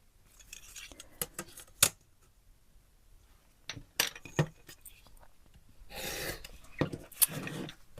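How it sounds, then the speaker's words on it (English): Scissors snip through a paper envelope in short, close, crisp cuts, a few separate snips followed by a longer rustling cut near the end, fairly quiet with soft background noise. "So I'll just draw a line there and try and cut it fairly straight."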